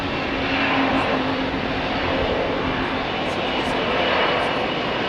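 A Boeing 787 Dreamliner departing at Heathrow gives off a continuous loud engine roar with a low steady hum, while people talk faintly nearby.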